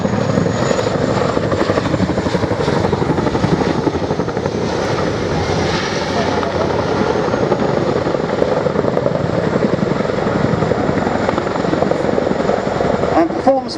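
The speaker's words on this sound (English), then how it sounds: "what is basically the helicopter version of a handbrake turn" A Chinook twin-rotor helicopter manoeuvring at an airshow produces a loud, continuous thudding rotor and turbine roar that holds steady throughout, with a commentator's voice faintly under the noise.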